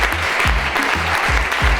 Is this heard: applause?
yes